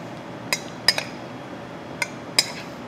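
A spoon clinks against a bowl while sweet potato salad with onions, scallions and marshmallows is mixed: four or five light, sharp metallic taps spread over a few seconds above a faint hiss.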